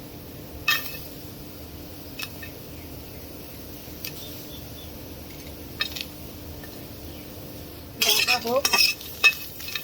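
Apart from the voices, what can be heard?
garlic and green chilies frying in a pan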